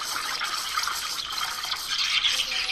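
Steady hissing rush of steam from an espresso machine steam wand, loud and close, with a bubbly sputtering texture that holds evenly for a few seconds.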